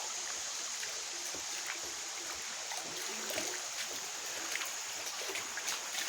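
A creek flows beneath a bridge at Tinkers Creek Park in Bedford, Ohio. It makes a steady, faint wash of running water with light trickles, with no voices over it.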